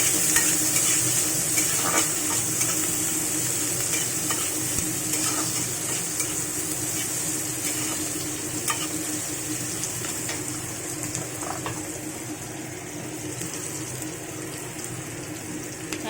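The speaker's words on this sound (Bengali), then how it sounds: "পেঁয়াজটা দিয়ে একটু নাড়াচাড়া করে নেব।" Onion stirred and fried in a pan while spicy prawn and potato fry is being made, a loud continuous sizzle with occasional scraping of the spatula, close up and without speech.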